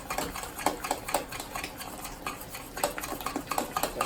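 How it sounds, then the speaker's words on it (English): A spoon scrapes and stirs almond puff filling in a cast iron pot, with a quick irregular rhythm of metallic scraping and knocking, close and moderately loud, no talking. "Just keep stirring."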